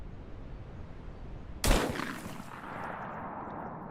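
A single sharp shotgun blast from a double-barrel shotgun in a video game, sudden and loud after quiet ambience, followed by a fading echo tail.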